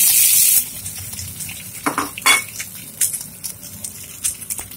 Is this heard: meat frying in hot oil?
yes